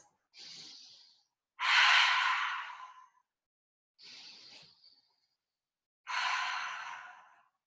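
Ujjayi breaths during a power vinyasa yoga practice: four slow, close oceanic breaths alternating softer inhales with louder, longer rushing exhales, evenly spaced with silence between and no talking.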